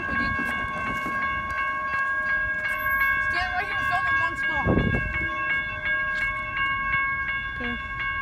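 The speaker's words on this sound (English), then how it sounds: "Yes, it is a freight train." A Union Pacific freight train rolls past at Menlo Park, its loud steady rumble and high sustained horn tones running throughout, with people talking nearby over the passing cars.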